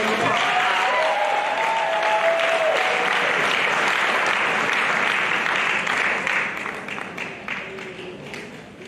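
Sustained audience applause fills a graduation ceremony hall, dense and loud for most of the stretch before tapering off near the end.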